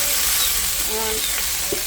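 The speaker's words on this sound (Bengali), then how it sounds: "এখন এই আলুটা ভেজে নিই।" Oil sizzles loudly in a pan as potatoes fry for chicken curry. The hiss stays constant and close, with a few light scraping or stirring clicks.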